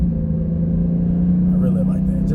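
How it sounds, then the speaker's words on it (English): A Dodge Charger 392 exhaust gives a steady, deep rumble close by, holding an even low drone throughout with faint voices underneath. "Just to listen to that exhaust is definitely fun to listen to."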